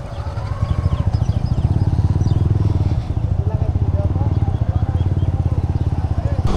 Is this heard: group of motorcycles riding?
yes